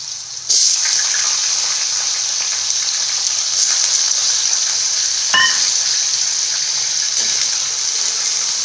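Cut potatoes drop into hot oil and set off a sudden loud, steady hiss, a close sizzle that keeps going with a few scraping stirs and clinks.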